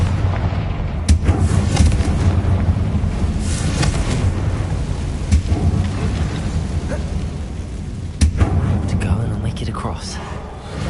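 The Confringo fire-blast spell goes off in Hogwarts Legacy: several sharp, blasting bursts spaced a few seconds apart over a rumbling game soundscape, with a voice speaking now and then.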